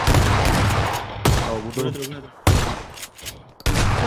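Gunfire from the battle royale game PUBG, dense bursts of rapid shots with sharp single cracks breaking in, loud and close, while players talk briefly over the shooting.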